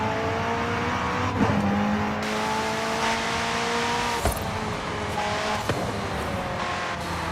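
A McLaren Senna drives in Forza Horizon 5 with a loud, steady engine note close by. The pitch climbs through several gear changes, broken by brief shift cracks and a short tire squeal, and no one speaks.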